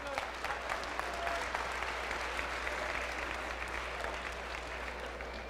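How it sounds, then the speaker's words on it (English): An audience at an Arkansas Boys State general assembly applauds, a steady wash of many hands clapping at moderate distance, fairly even from start to finish, with a low hum underneath. "Give yourself a round of applause."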